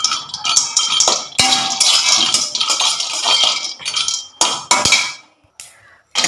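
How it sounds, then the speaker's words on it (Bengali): Almonds being fried in a pan: loud, busy clattering and clinking of nuts and a utensil against the metal, with brief pauses and a few sharp knocks. "আর এখন ভাজছি আমন্ড।"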